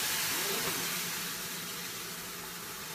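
Steady broadband hiss of steam rising from steak and fingerling potatoes cooking in a hot pan, filling the whole stretch at an even loudness and easing slightly toward the end, with no talk over it.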